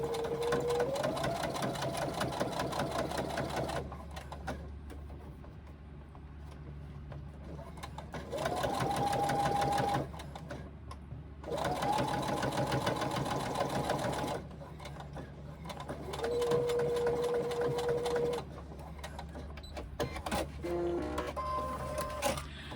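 Sewing machine top stitching a fabric pocket pouch, close up in several bursts of rapid mechanical stitching separated by short pauses, with the motor pitch rising as each run speeds up.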